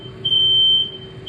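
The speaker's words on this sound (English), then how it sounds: "That's my smoke alarm." A household smoke alarm gives a single sustained high-pitched electronic beep, close and clear, with a second beep starting at the end, over faint background noise in a kitchen.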